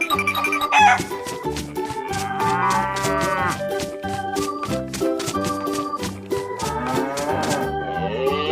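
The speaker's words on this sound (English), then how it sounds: "Cow." Cartoon-style cow mooing in long drawn-out calls over a rhythmic musical beat, loud and close, with some clucking mixed in.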